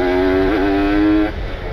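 A Kawasaki Ninja RR two-stroke motorcycle with a ported engine and an ABRT aftermarket exhaust revs up close and loud. A sustained buzzing tone dips briefly and then holds before it drops off toward idle.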